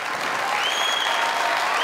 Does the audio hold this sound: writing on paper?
no